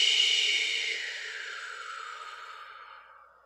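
A single long, deep exhaled breath taken during a guided meditation, close and soft, fading gradually over about three seconds in an otherwise quiet room.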